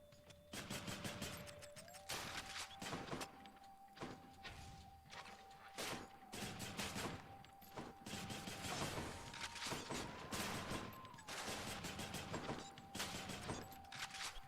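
Rapid bursts of gunfire in the video game Hades, loud repeated shots firing in quick irregular volleys across the whole stretch with steady game tones underneath and almost no talk.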